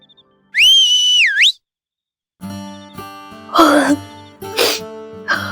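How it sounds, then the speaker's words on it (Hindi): A sharp wolf-whistle rises, dips and rises again after dialogue in a Hindi comedy scene, followed by a cough and throat clearing over background music. "इस डायलॉग में सीटी जरूर बचती है"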